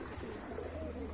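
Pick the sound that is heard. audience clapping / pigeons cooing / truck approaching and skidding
pigeons cooing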